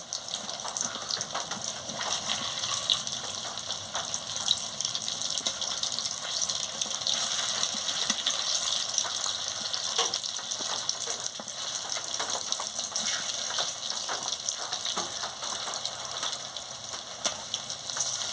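Soybean fritters fry in hot oil in a wok, giving a steady, even sizzle that continues without a break and with no voices.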